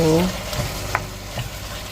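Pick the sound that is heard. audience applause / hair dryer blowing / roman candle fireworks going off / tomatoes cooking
tomatoes cooking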